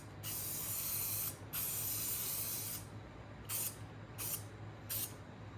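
Clear coat is sprayed from a paint gun, heard as two long, close, steady hissing passes followed by three short bursts.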